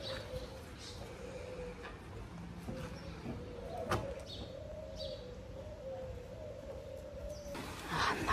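Birds in a zoo exhibit call and coo softly amid a steady ambient hum, with scattered chirps and rustles throughout and a brief burst of noise near the end.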